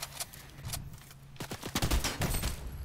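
Gunfire in Fortnite, a scattered volley of sharp shots that thickens into rapid, close bursts, loud and mostly alone without talk.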